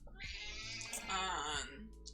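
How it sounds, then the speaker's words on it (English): A pet cat meows in a drawn-out, wavering cry close to the microphone, with a short second call near the end. "girl heard your kitty and started smelling my screen"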